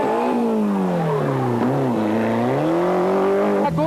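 A rally car on a closed French rally stage roars past close by, its engine revving hard and shifting pitch through gear changes, loud and alone for a few seconds.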